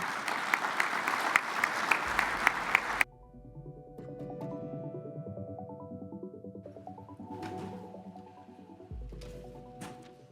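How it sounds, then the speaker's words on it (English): A campus energy conference audience claps in a brisk round of applause for about three seconds, then it cuts off abruptly and a quieter sequence of musical tones follows. "Let's give Dave Musto a nice round of applause to welcome."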